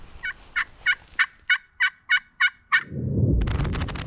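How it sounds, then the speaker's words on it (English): A wild turkey gobbles in a rapid run of about nine sharp, rattling notes, followed by a burst of rough wind or rustling noise. "Every gobble you hear and every strutter you see"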